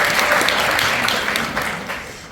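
A talk-concert audience breaks into brief, dense applause, steady at first and fading slightly by the end.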